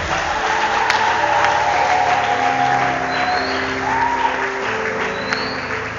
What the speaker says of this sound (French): Est-ce que vous pouvez acclamer pour Jésus ce matin?